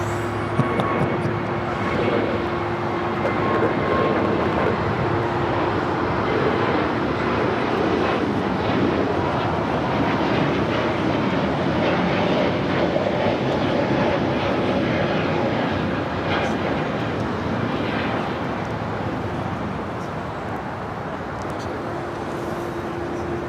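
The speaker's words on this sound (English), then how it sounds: "United A321 Neo flight heading to Chicago here, flight 2615" A United Airlines Airbus A321neo jet on a flight to Chicago at Los Angeles airport gives a steady, loud engine roar with a droning tone, continuing for the whole span while voices talk faintly underneath.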